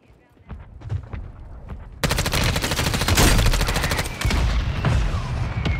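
Mortar strike in Call of Duty Warzone: after two seconds of quieter sound, a loud, dense barrage of rapid impacts and blasts hits close and goes on to the end, with some voice mixed in.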